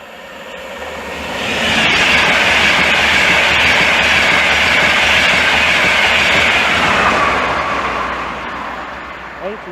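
An InterCity 225 Edinburgh to King's Cross train passes Hitchin station on the East Coast Main Line, building quickly to a loud sustained rushing roar with wheel clatter, then fading away.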